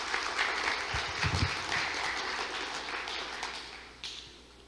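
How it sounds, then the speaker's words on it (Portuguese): Audience applause at a Messianic Jewish podcast gathering, a burst of clapping with a few sharper claps early on that gradually thins and fades toward the end. "Aplaudo o Senhor mais uma vez."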